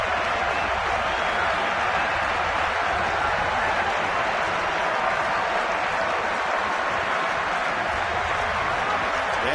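Steady roar of a 40,000-plus crowd at a night baseball game between the White Sox and the Nationals in Washington, a dense broadband wash of voices and scattered applause holding level throughout, with no distinct talk.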